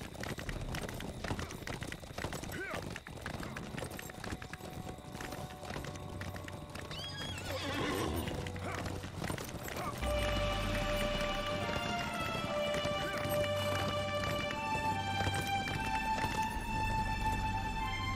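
Horses of the Rohirrim galloping in the game LOTRO, a steady drumming of many hooves with a horse whinny, continuing under rising orchestral music.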